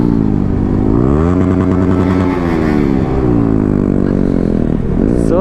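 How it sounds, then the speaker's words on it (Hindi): A Yamaha R15 V3 BS6 motorcycle fitted with a modified Akrapovic exhaust revs loud and close, its raw engine note rising and falling through several throttle blips with no voices. "सो ये साउंड है एग्जॉस्ट का।"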